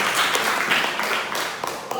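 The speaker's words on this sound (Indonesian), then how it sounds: "tepuk tangan untuk kelompok 5" Classroom applause for a student group, a brief burst of clapping from a small crowd that tapers off over two seconds.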